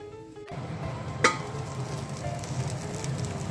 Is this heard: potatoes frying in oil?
yes